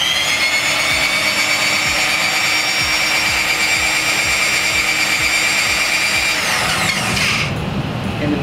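A Bauer drain cleaning machine runs in forward, casting out its cable with a loud, steady motor whine and rhythmic rattling clatter that shifts in pitch near the end as it winds down.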